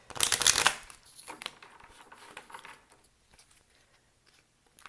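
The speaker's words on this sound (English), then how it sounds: "Just want to get a good old shuffle." A brisk burst of tarot card shuffling up close, a loud riffling flutter at the start followed by softer scattered card handling that fades to near quiet.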